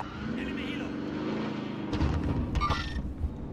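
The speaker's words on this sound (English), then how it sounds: "Helicopter." A helicopter in the video game Warzone gives a steady, rumbling rotor drone throughout, with a few louder sharp bursts in the second half.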